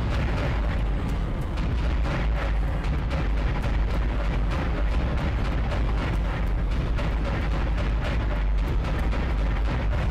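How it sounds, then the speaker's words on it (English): Asteroid rocks pelt a spaceship in Dead Space, producing a steady, dense barrage of crackling impacts and rumbling bursts that runs loud and unbroken for about ten seconds with no talk. "And rocks are just hitting us left and right."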